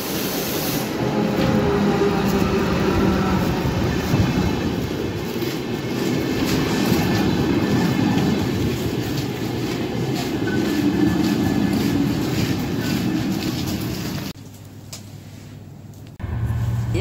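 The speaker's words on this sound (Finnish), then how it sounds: "Sieltä se juna pitäisi kohta tulla." A train arrives, rumbling and rattling steadily on its tracks at close range, loud and continuous, then the noise drops off abruptly near the end.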